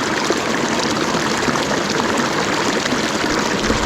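Cold mountain stream water rushing steadily in a Himalayan stream where dishes are washed, a loud dense continuous flow heard close up.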